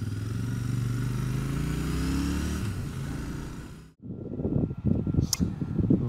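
Royal Enfield Super Meteor 650 motorcycle riding: a steady, loud engine drone with wind, a brief dip near the four-second mark, then choppier engine and road noise with a short high whine.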